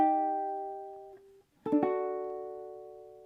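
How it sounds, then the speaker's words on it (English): Ukulele playing a measure of a song: a sustained strummed chord rings and fades, a brief pause, then two quick strums land and a new chord rings out cleanly, close and alone. "And so that measure sounds something like this."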